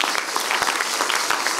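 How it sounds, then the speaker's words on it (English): A church congregation claps during a prophet's sermon, a brief burst of lively, steady applause with a few sharper individual claps standing out. "The Lord bless those who are clapping for you."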